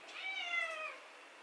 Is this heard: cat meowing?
yes